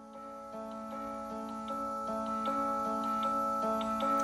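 An iPhone Clock app alarm rings alone, a steady electronic tone pattern with regular repeating beeps, moderately quiet and close.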